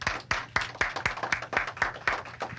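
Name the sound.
audience applause for dancers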